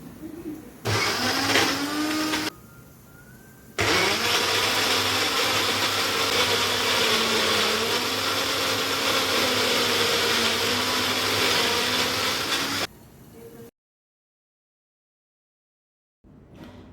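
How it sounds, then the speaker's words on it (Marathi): A kitchen blender grinds broccoli for soup, running loud and steady in long bursts with brief pauses and a short stop between runs, ending in silence. "आता मी ही जी ब्रोकोली आहे ती वाटून घेतलेली आहे"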